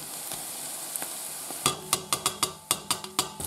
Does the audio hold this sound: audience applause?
no